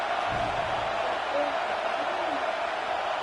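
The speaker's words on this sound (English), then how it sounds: "Here comes this home crowd as the defense tries to get off the field on 3rd down." Home crowd at a football game cheering as the defense tries to get off the field on third down, a broad steady roar at a distance under continuous play-by-play commentary.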